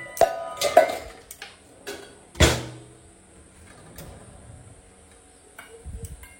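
Metal pots and dishes clank in a home kitchen during a hunt for a lid: sparse sharp clinks and knocks, with one louder clatter partway through, then quieter rattling and no talk.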